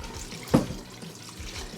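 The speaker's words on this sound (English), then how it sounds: "We'll just use like a magic bullet's worth of water to pour on top." Water is poured on top of pork and beans in a pot for slow cooking, a soft close splash with a brief louder gush at the start and then a gentle trickling wash.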